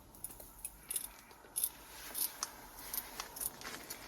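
Snips of scissors or a blade cutting tape material for a leaking sunroof repair, a string of quiet, crisp clicks and snaps spread across a few seconds, close by with no talking.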